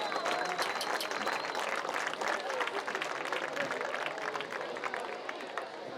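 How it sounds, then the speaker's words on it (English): A gym crowd at a high school basketball game between East Butler and Nebraska Christian applauds the alumni with sustained, dense clapping and some cheering, loud and continuous throughout. "Let's give them one more round of applause"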